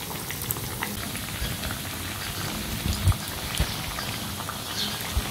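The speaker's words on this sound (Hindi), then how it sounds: "ऑयल मैंने गर्म करने के लिए रखा हुआ है, और जितनी मेरे फ्राइंग पैन में जगह है मैं उतनी ही फ्राई करूँगी।" Food frying in hot oil in a frying pan, a steady crackling sizzle with scattered pops and spits, close and continuous without talk.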